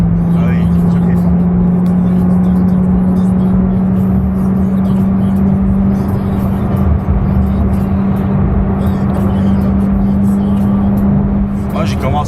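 A Corvette C7 Z06 with the Z07 pack and a 659 hp supercharged engine drives under way. Its engine holds a loud, steady droning whine with road roar for over twelve seconds, then the tone shifts near the end.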